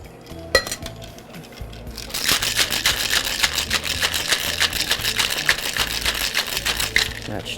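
A cocktail shaker packed with ice and Kettle One vodka rattles hard and rhythmically at close range, rapid clinking strokes running continuously after a few initial clanks.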